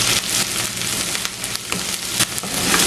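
A vegetable mixture for fish rolls sautéing in a pan, giving a steady, close hiss with occasional soft crackles and brief stirring knocks throughout.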